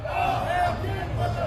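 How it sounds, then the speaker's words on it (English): A live NXT wrestling crowd chants in unison, a steady, dense roar of many voices filling the arena with a rhythmic swell that holds loud throughout. "F you, Swerve, is what they're chanting."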